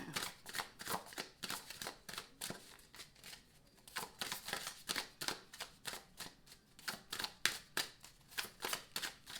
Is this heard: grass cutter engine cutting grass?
no